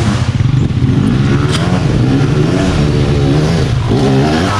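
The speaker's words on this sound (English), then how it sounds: "Oh, trials bike." A trials motorbike engine revs loudly and close by at a jungle trail, with a continuous throaty rumble that rises and falls in pitch under wind buffeting.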